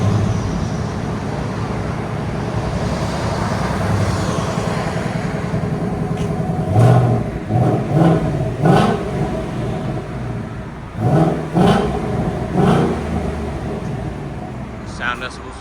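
A stock 2024 Ford Mustang GT S650 with its 5.0L V8 and factory converters rumbles at idle, then gives a run of short, loud revs in bursts, with someone talking.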